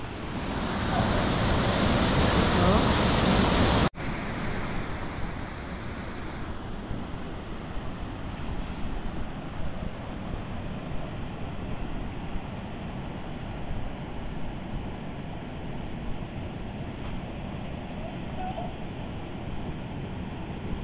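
Sanggawan Falls near a hot spring in Makilala, North Cotabato, a steady broadband roar of rushing, splashing water that drops slightly in level after a few seconds and then continues constant and close.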